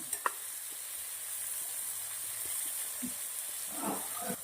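Small brinjals sautéing in oil in a pan for a stuffed brinjal curry give a soft, steady sizzle with a few light stirring clicks and a brief swell near the end, with no voices.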